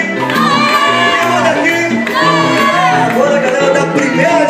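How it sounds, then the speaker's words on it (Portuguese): Vitória football supporters chant together in a stadium, a loud, dense crowd singing in a rhythmic, sustained swell with shouts rising above it. "A torcida do Vitória vai dizer: quem manda aqui sou eu."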